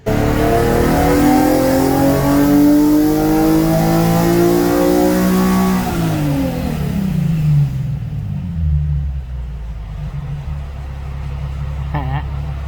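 A Nissan 370Z engine revs hard on a dyno and climbs steadily in pitch for several seconds, then drops off and settles into a low idle, loud and close.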